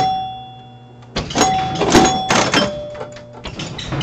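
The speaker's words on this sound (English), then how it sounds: "you notice Williams chimes are way different than like a Gottlieb chime" Chimes of a Williams Travel Time pinball machine ring out in several clear tonal dings amid clattering play noise and mechanical knocks, loud and close, after a quieter lead-in with a sustained tone.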